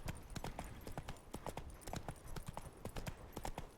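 Steady rhythmic clip-clop of horse hooves at a riding pace in The Witcher 3 video game, crisp and fairly close, with a faint voice briefly in the background.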